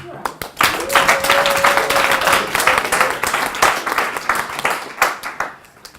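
Audience applause greeting a speaker on a members' stage, dense crowd clapping swelling quickly then tapering off over several seconds, with a faint voice beneath.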